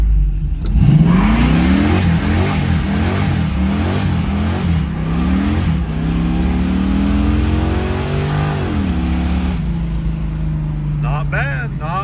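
A car engine at roughly 900 RPM idle is floored from a standstill, its pitch sweeping up in repeated hard climbs and falling back, loud and close, with no talk over it.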